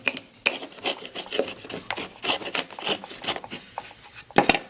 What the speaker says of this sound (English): So you can use a chisel.